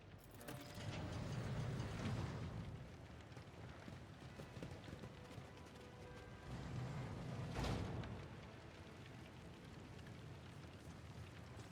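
An elevator moves through the Warhammer 40K Rogue Trader game world, a steady mechanical rumble with clanking, ratcheting machinery that swells twice in heavy low surges and carries on throughout, with no talking.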